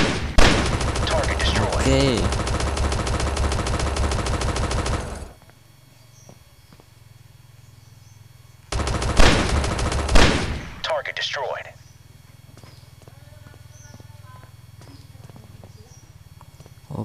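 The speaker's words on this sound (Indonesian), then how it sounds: "Kita ganti tembak dulu." Gunfire in the first-person shooter game Black Commando, dense rapid bursts loud and close in two long stretches separated by a quiet gap, with a brief voice between.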